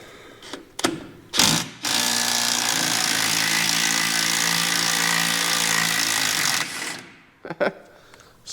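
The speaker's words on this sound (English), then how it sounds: "seeing if I can get 40-year-old bolts to break loose" Power tool, likely an impact wrench, working on 40-year-old axle bolts of a truck's Sterling axle, running as a loud continuous whir for about five seconds after brief clanks, with short knocks before and after.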